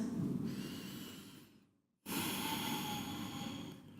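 A long, audible exhale during a yoga lizard pose trails off into near silence, followed by a fresh deep inhale, slow and close.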